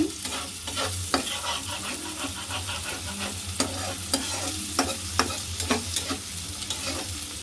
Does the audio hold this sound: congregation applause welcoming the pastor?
no